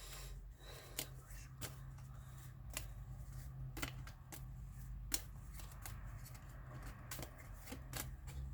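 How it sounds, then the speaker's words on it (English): Tarot cards being shuffled by hand in a quiet room, soft riffling with sharp repeated snaps at an irregular rhythm over a low hum. "here I am, just shuffling"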